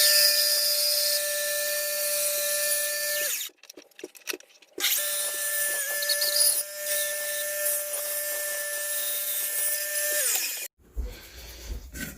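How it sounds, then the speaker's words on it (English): Bandsaw slicing through scrap wood for a knife block, a steady high whine with a low motor hum, broken by a pause and a few knocks before cutting resumes, then a clatter near the end. "So now I'll take these over to the bandsaw and cut these out."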